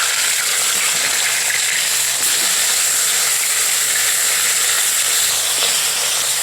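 Katla fish pieces frying in hot oil in a pan, a loud, steady sizzling hiss that continues without a break, close and alone.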